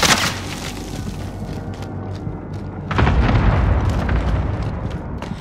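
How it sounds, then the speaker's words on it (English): Bomber bombardment in Call of Duty Warzone, deep booming explosions rumbling continuously at moderate loudness, swelling into a heavier barrage midway. "Brace yourselves for major bomber activity. Head inside and seek shelter from the bombardment."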